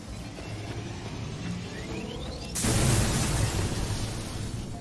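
A loud explosion bursts out partway through, a broad blast that swells over game background noise and a rising tone, in the video game Mass Effect 2: Legendary Edition.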